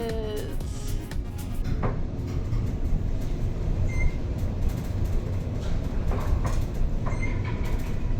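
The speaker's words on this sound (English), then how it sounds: "One of the complaints that I hear about the Luxor are the noisy elevators" A Luxor Las Vegas hotel elevator car, which travels diagonally, rumbles and rattles continuously with a low, noisy drone, punctuated by occasional clanks and squeaks as it travels.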